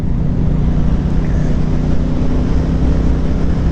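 A 2025 Triumph Bonneville Speedmaster Icon Edition, a 1200cc motorcycle, is opened up on an industrial road, giving a steady, loud engine drone mixed with wind rush and no talking.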